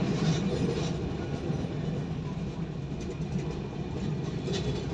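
A train passes close by at a level crossing, its low continuous rumble and rolling wagon noise steady and moderately loud throughout, with no voices over it.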